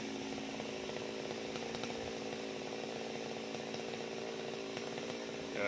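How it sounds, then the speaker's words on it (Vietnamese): Chainsaw cutting branches of a large dáng hương tree outdoors, a steady high buzzing whine held at constant speed for several seconds, fairly distant and faint, alone without talk. "Giờ chú đứng dưới này để cưa nha các bạn"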